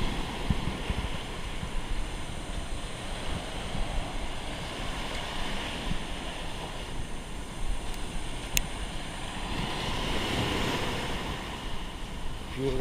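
Steady wind and rolling surf wash over Bhogwe Beach on the Konkan coast, a continuous broadband roar with gentle swells in loudness and no voices.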